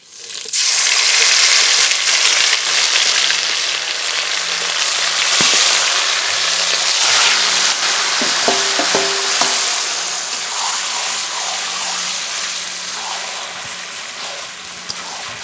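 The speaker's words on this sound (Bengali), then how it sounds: "গোটা জিরে ফড়ন করে নিয়েছি মশলা মাখানো মাংস দিয়ে দেব এবার" Spice-marinated pork hits hot oil seasoned with whole cumin, chilli and bay leaf, giving a loud, continuous sizzle and crackle that holds steady throughout, with a few faint utensil taps.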